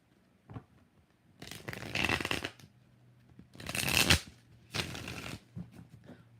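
A deck of tarot cards is shuffled by hand in three quick riffling bursts separated by pauses, crisp and close with a faint background hum.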